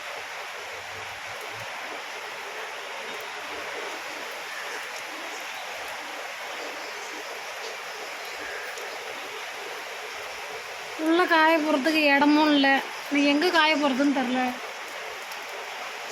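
Steady rain falls throughout in a rural hometown downpour, a broad even hiss from start to finish, with someone talking over it near the end.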